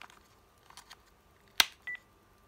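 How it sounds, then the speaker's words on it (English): A short electronic beep from a Panasonic KX-TGC222 cordless phone base, clear and close, following a brief click and faint handling noises in an otherwise quiet room. "You heard that beep there."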